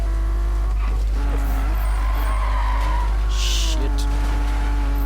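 A Toyota Supra drifting in Need for Speed 2015, its tires squealing in long wavering skids over a constant loud engine drone, the pitch sliding up and down as the car slides through a curve.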